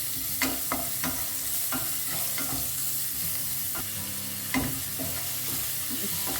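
Onion frying in ghee over medium flame for pudina pulao, a close crackling sizzle broken by repeated spoon stirs and scrapes against the pan, no talk.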